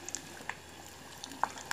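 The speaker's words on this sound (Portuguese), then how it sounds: "agora estou fritando um de cada porque é muito grande" Giant pork cracklings (torresmos) frying in hot oil, one at a time, give a faint, scattered crackle and a few sharp pops over a low sizzle.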